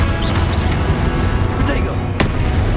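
Confringo blasting spell in Hogwarts Legacy, short booming bursts with crackling impacts layered over low rumble, loud and close amid game noise, with speech in the clip.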